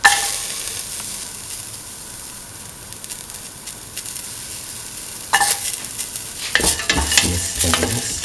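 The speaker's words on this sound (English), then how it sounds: "Put in the garlic." Garlic frying in a hot pan for a lentil carrot rice dish, a steady close sizzle that grows louder and brighter as a spoon stirs and scrapes through it, with no talking.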